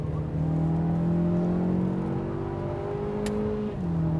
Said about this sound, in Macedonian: Го слушате рикањето на моторот.